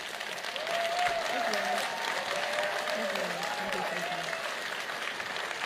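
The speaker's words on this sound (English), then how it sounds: "give them a round of applause again" Audience at a congressional candidate debate in Lamar County, Texas, applauding the participants, a full sustained round of clapping with some crowd murmur beneath.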